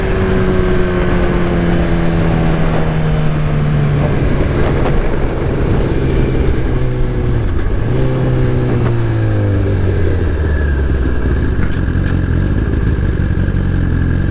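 A Suzuki GSX-R1000R Anniversary Edition engine screams at high speed. Loud, steady wind roar runs underneath as the engine pitch climbs and drops through gear changes, and no one talks.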